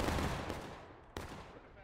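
A musket volley fired on command in the Civil War game War of Rights, a loud ragged blast of many guns that decays quickly, then a second sharp report shortly after.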